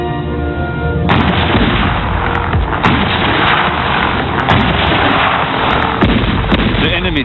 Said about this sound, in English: On the 10th of October, the Allies opened fire.